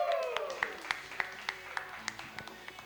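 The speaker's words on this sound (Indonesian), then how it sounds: "Boleh tepuk tangan untuk Abel." Audience applause greeting a contestant at an evening football talk show: a steady run of hand claps from a modest crowd, fairly close and moderately loud.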